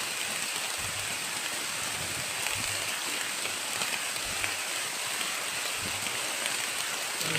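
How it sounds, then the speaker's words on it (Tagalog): Steady rainfall hisses continuously in a video game, with faint low thuds beneath, moderately quiet and unbroken. "Kasi ulan, Brad, kailangan natin na magkarapal mamaya, Brad."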